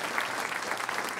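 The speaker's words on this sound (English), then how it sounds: "can we all please give a huge round of applause for every one of these 8 panelists?" Audience applause for a panel of eight at an MIT Enterprise Forum investor event, a dense, steady clapping from a crowd that fills the whole moment without a break.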